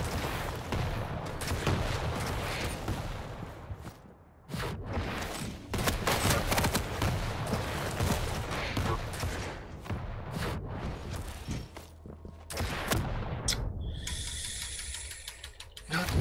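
Rapid SMG gunfire in the first-person arena shooter Quake Champions, dense and continuous bursts with brief gaps, mixed with game effects and a high whine near the end.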